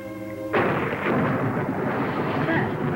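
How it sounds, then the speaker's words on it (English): A sudden heavy thunderclap breaks in after a held musical note, then a deep rumble rolls on loudly and steadily, a dramatic storm effect in a 1958 television drama. "It sounds like thunder."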